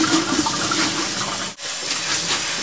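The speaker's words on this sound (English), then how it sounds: "I like to put it in the strainer. And catch that water again." Water rushes steadily from rinsed brown rice draining through a strainer, a loud, continuous close-up splashing with one brief dip partway through.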